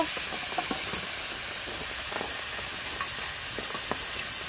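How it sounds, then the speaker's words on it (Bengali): Onion, garlic and ginger sizzle in a frying pan during simple village cooking on a rainy day, a steady close hiss with faint stirring clicks and no talk. "পেঁয়াজ রসুন আদাটা দেব"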